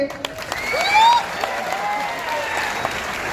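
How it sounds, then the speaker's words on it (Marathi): Loud crowd applause for Prashant at a student career guidance gathering in Nanded, packed steady clapping topped by shrill rising cheers or whistles near the start. "एकदा जोरदार टाळ्या वाजवायच्या प्रशांत भाऊ साठी."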